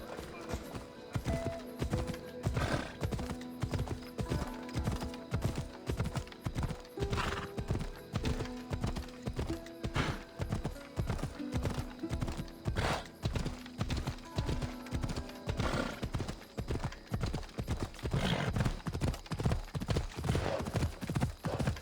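Horse hooves clip-clop in a steady, rapid rhythm throughout a ride in Assassin's Creed Odyssey, close and loud, with an occasional whinny and some game background sound.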